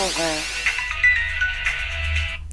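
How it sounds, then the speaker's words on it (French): A phone ringtone from an incoming call plays close and clear as a melodic electronic tune that runs for about two seconds and then cuts off, with brief speech under it. "Déconcentration due à un appel avec ma sonnerie tellement magnifique"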